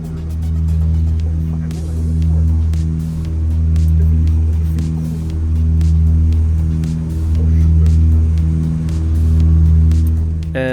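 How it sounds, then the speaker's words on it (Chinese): Loud, steady turboprop airliner propeller engine drone, a Xinzhou 60 heard from a seat beside the propeller, with a low throbbing hum that swells and fades in slow, regular pulses. "这样令人难忘的噪音表现，如果您是和我一样坐在螺旋桨的边上"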